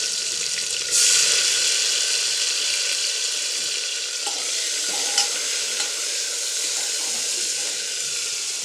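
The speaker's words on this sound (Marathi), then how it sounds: "आता आपण तेल तापायला ठेवलंय. त्या तेलात टोमॅटो चिरून टाकलेला आहे." Chopped tomato fries in hot oil in a pan, giving a loud, steady, close sizzle that carries on unbroken with faint clinks.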